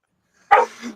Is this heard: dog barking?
yes